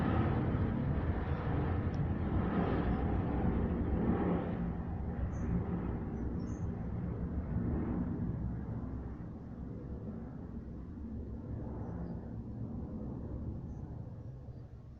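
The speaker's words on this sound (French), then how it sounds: "il y a un avion qui passe, je le laisse passer" An airplane passes overhead as a broad, steady low rumble that slowly fades over several seconds, alone with no talking.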